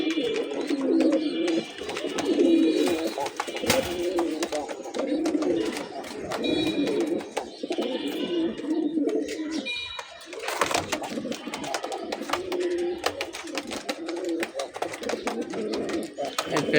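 Giribaz pigeons coo repeatedly in soft, throaty bursts close by, mixed with wing flutters and shuffling, while someone talks throughout.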